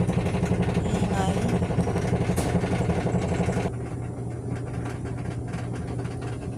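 Washing machine running its dryer spin cycle, a loud, steady mechanical rumble and whir that continues throughout, dropping slightly in level partway through, with faint voices and household noise underneath.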